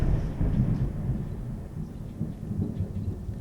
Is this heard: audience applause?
no